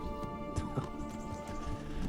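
Horse hooves clip-clopping while riding in the medieval game Kingdom Come: Deliverance, faint and irregular under a steady, droning tonal background.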